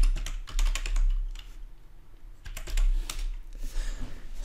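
A message is typed on a computer keyboard during an STM32 USB host lab, with close, crisp keystrokes coming in quick bursts separated by short pauses.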